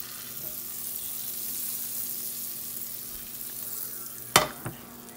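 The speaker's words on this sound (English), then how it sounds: "In a skillet, you put in a tablespoon or a half a tablespoon of butter," Butter sizzles softly and steadily in a skillet for French toast made with strawberry bread. A sharp clatter near the end sounds like a utensil against the pan.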